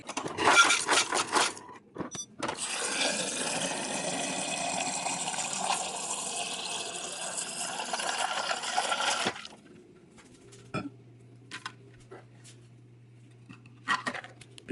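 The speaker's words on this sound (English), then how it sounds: "I just filled up my water like you just saw." Water gushes steadily from a dispenser into a Dunkin' cup, a loud continuous pour for several seconds, then quieter handling clicks and a low hum.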